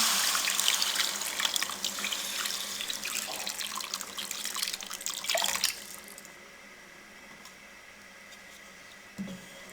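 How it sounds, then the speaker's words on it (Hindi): Two cups of water pour into a pan of green chickpea curry, a continuous rushing splash for about six seconds that then stops, leaving a quiet kitchen with a faint clink. "अब इसमें हम पानी डाल देंगे 2 कप"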